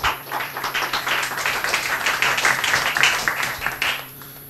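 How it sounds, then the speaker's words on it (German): Audience applause at a net-policy evening event in Austria, a brief burst of clapping from a modest crowd in a room, steady for a few seconds with no talk over it. "Applaus!"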